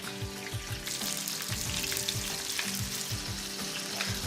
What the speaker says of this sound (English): we're gonna go ahead and we're gonna shear off our halibut. You hear that thing? Just go shh.